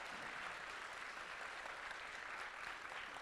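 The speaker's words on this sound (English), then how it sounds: "I'd like to ask for you to give them another round of applause" Audience at a South Central Pennsylvania qualifier competition applauding the judges, a steady, fairly quiet wash of clapping from many people, heard alone.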